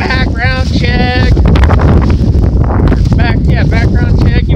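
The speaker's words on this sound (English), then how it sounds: "It's kind of windy out there." Gusty outdoor wind buffets the microphone with a heavy, loud rumble at a rural electric fence worksite, while someone talks over it throughout.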